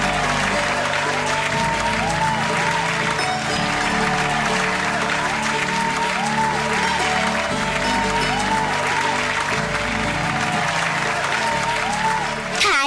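An audience applauds warmly at a school event honouring a terracotta sculptor, the steady clapping running on for over ten seconds alongside melodic music in the background.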